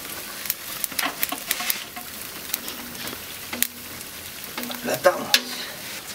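Smashed rosti potatoes frying in generous olive oil on a flat griddle, a soft continuous sizzle with scattered pops and light scraping, moderately close, with no talking.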